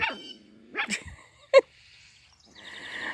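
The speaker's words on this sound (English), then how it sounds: "What you barking at? You barking at all the birdies?" A puppy in a backyard garden barks in short yips and whimpers, a few bursts spread across the moment, fairly close, with quiet gaps and faint outdoor ambience between them.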